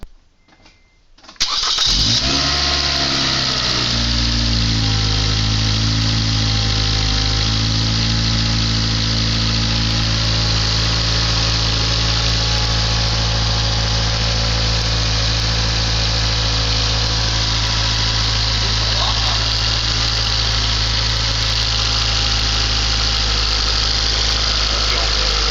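A 2011-2012 Scion tC fitted with a Weapon-R header cranks briefly after a moment of silence, fires up and settles into a loud, steady idle that hums on close by without a break.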